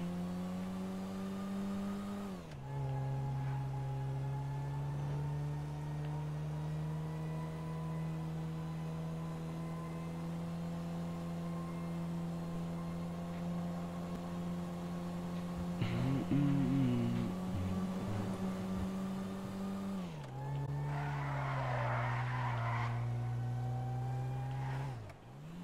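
A front-damaged car in GTA 5 driven steadily, its engine holding a constant droning tone with a brief gear change near the start and a shift in pitch later, persistent and fairly quiet, with no talking.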